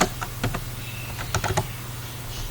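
Fingers tapping a computer keyboard to enter a product name into inventory and accounts software, a few quick scattered keystrokes in two short bursts, close and quiet against a steady low hum.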